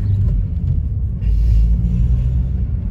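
Car engine rumbling steadily while driving on a road, a loud, close, continuous low drone with no talk.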